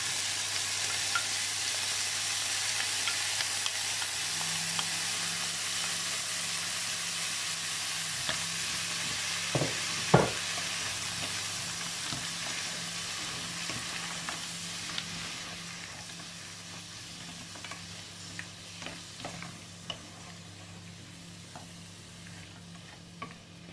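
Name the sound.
frozen mushrooms frying in a pan with leftover chicken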